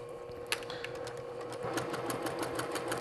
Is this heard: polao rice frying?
no